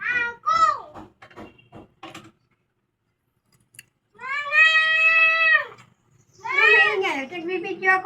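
A cat meows several times, with short cries at first, then two long, loud, drawn-out meows close by, separated by a brief silence.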